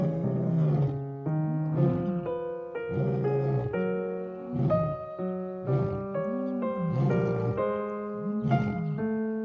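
A lion roars repeatedly in a series of deep, grunting bellows with short gaps between them, loud and close with no voices.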